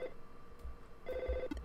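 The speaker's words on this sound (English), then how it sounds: "get a phone call from our dad" A telephone rings in the Earthbound video game, a synthesized two-part trill heard twice, the second burst longer and fuller, fairly quiet and with no talk over it.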